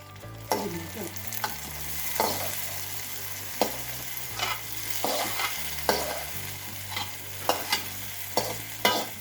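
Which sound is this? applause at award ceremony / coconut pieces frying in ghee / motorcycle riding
coconut pieces frying in ghee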